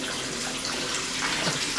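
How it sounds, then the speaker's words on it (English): Sink tap running steadily in an old building during a paranormal investigation, a continuous hissing gush of water heard close and fairly loud, alone without talk. "This is the tap that was running with water."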